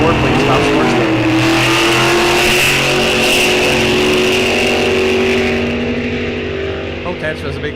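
A drag racing car at an NHRA event launches with a big wheelie down the track, its loud engine roaring and climbing steadily in pitch before fading into the distance, with a voice talking over it.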